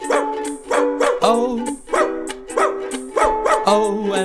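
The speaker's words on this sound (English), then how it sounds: "There was a farmer had a dog, and Bingo was his name-o" Barking dog sounds play in a sung version of the Bingo farmer-and-dog nursery rhyme, a series of short, punchy barks landing rhythmically on the beat and repeating throughout.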